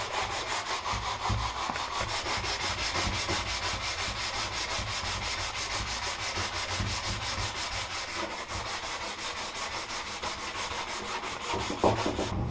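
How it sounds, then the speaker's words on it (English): Wood sanded by hand with a sanding sponge, a continuous rapid back-and-forth scratchy rubbing, close and steady throughout with no talking. "The rest we can just do with the sanding sponge."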